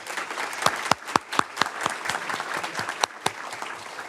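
A school board business meeting audience applauds with a moderate round of distinct, individual claps that come in an uneven, scattered rhythm and carry on steadily for several seconds, with no voices over them.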